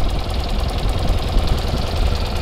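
A 1982 BMW R65LS motorcycle engine runs steadily at idle, a close, uneven mechanical putter with a faint knocking pulse and no one talking.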